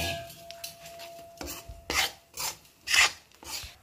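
Gram flour being roasted in ghee in a pan, stirred and scraped with a spoon in rhythmic rasping strokes, several louder scrapes toward the end, close and alone without talk.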